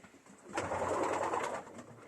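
A swell of deep, rolling coos from racing pigeons in their loft rises and then eases off, close and fairly loud, with no voices.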